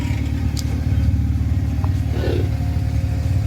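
A Honda EK hatchback fitted with a K24 engine runs with a steady, deep, rumbling idle close by, throbbing evenly throughout.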